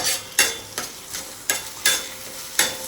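Egg being chopped and stirred in a frying pan: a spatula scrapes and knocks against the pan in sharp, irregular strokes, about seven in three seconds, over a faint steady sizzle, close and clear with no talking.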